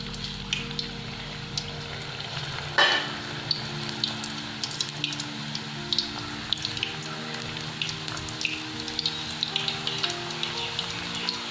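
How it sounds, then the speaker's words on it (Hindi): Banana chips frying in hot oil, a steady close sizzle with dense fine crackles and pops, plus a brief louder splash as more slices go in early on. "तो हमारे यहाँ तेल गरम हो चुका है अब हम इसमें सभी चिप्स डाल देंगे"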